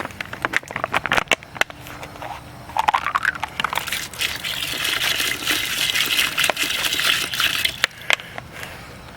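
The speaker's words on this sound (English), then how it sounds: "Put a little bit of water in it." Water gushes and splashes into a container in uneven bursts for cleaning rusty, greasy bolts, with sharp clatters and knocks scattered throughout, fairly close.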